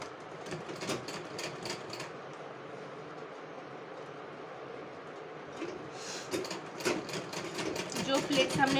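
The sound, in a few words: sewing machine stitching fabric onto pleats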